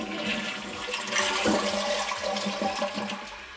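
A freshly reinstalled toilet flushes during a leak test, a loud close rush and gurgle of water that fills the whole stretch without any talking.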